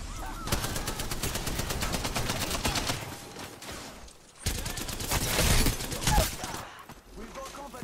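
Rapid automatic gunfire rattles in the video game Apex Legends, two long bursts of loud, dense shots separated by a brief pause, with voices talking over the firefight.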